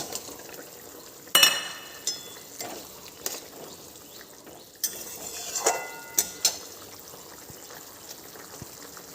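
Fish pieces go into a pot of boiling fish gravy with a few sharp clinks and clatters of a utensil against the pot, then soft stirring and bubbling at close range.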